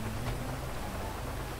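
Rain falls steadily in the GTA V video game, a soft, even hiss with a low rumble beneath, continuous and fairly quiet throughout.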